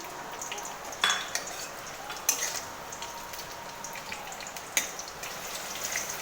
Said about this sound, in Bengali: আমি এই তেলের মধ্যে আমি কাঁচা লঙ্কা আর সর্ষেটা দিয়ে দেবো।